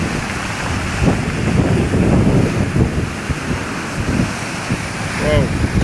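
Storm wind roars against the microphone with crashing surf at dusk, a dense continuous wash of gusts and breaking waves rising and falling loudly throughout.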